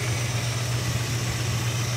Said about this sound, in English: But it's idling. It's like really idling.